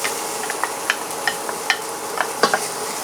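Garlic and onion hitting hot cooking oil in a pan, a steady close sizzle with scattered sharp crackles and pops, no talking.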